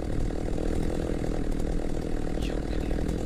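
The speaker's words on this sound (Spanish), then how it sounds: "Escucho motosierra, aquí se escucha más fuerte" A chainsaw roars loud and close in the horror video game Slendytubbies 2, a continuous buzzing engine drone held steady for several seconds with no voices over it.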